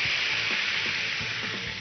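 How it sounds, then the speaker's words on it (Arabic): Meat fries in a mix of oil and butter that was melted in a microwave, giving a loud, continuous sizzle. Soft stirring or shifting sounds rise briefly under the sizzle, and no voices are heard. "ونحمر فيه العرق بتاعنا"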